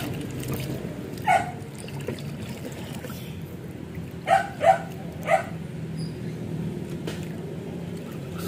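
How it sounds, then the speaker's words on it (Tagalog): A few sharp barks from a dog at night: a single bark early on, then three quick barks close together, over a low steady background rumble. "Ingay yung aso namin"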